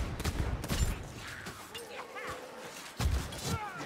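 Gunfire from an ultimate ability in a shooter video game cracks out in quick bursts of sharp shots, with a couple of heavier blasts at the start and near the end, set among other game effects.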